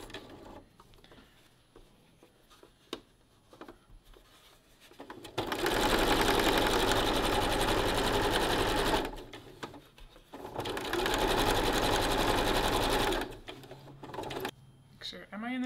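A home sewing machine stitches a rolled hem, starting with a few slow single stitches and clicks, then running in two sustained loud whirring bursts with a short pause between them.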